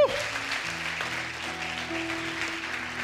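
Congregation applauding during a Spanish-language church sermon, a steady, dense wash of clapping that fills the whole stretch at even loudness, with a held tone and faint voices underneath.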